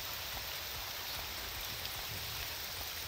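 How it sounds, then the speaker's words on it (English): Rain falling in the video game Morrowind, an even, continuous hiss of drops on surfaces, steady and moderately quiet throughout, with no talking. "it's even raining here"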